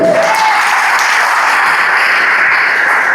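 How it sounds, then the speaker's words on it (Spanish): A church congregation bursts into loud applause during a sermon, a dense, roaring wash of many hands clapping that stays steady and full for the whole stretch, with a brief voice at the very start. "Dese un aplauso a usted fuerte."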